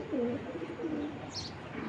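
Giribaz pigeons coo nearby in low rolling notes repeated a few times, fairly soft, with a brief higher chirp toward the end.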